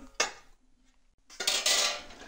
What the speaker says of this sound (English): I'm gonna start grabbing an oven plate